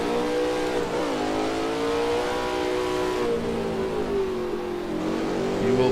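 A racing-sim car engine revving hard after a bad downshift, a loud, continuous buzzing drone with pitch swings that dip and climb again, heard alone without speech.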